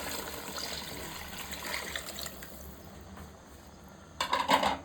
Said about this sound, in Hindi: अभी इसमें पानी डालेगा कितना आपने इसको, ताकि ये गल जाए अच्छे तरीके से ना।